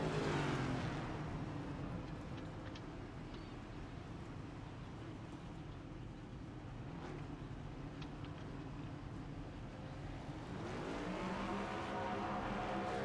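A race car in a racing game pulling out of pit road at North Wilkesboro, the engine note swelling and rising in pitch near the end after a steady drone, moderately faint with no voices.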